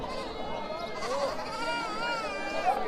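A castrated male goat bleats at a busy livestock market in Gazipur Bazar, Melandah, Jamalpur, its wavering cries recurring close by over steady crowd chatter and nearby voices.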